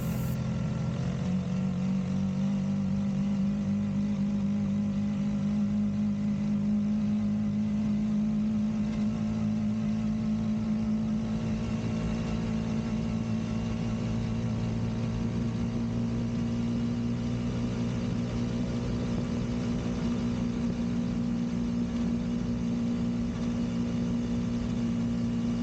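A small 4-stroke friction drive engine drones steadily at high speed on a straightaway, holding a constant, fairly loud tone for the whole stretch with a slight rise in pitch early on.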